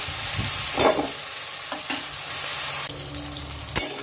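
Three medium tomatoes frying in a pan, a continuous close sizzle broken by several scraping stir strokes and a sharp clatter near the end.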